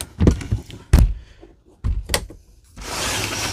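A large window on a Black Series HQ19 RV being pulled shut, heard as several heavy clunks and mechanical latch sounds, then a steady rush of wind noise, with no talking.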